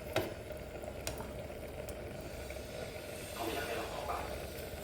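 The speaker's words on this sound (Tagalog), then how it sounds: "Pagkatapos kong mailagay yung repolyo ay hinalo-halo ko ito at saka tinakpan para pakuluan at maluto ito" Cabbage being stirred in a pot of pork nilaga, with a spoon knocking a couple of times against the pot over a low simmering sizzle, which swells slightly toward the end.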